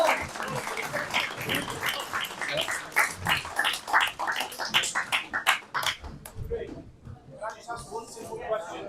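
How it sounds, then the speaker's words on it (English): A crowd applauds steadily, dense clapping filling the room, then it thins into scattered claps and fades toward the end. "if I can have one final round of applause for Chris and Richard"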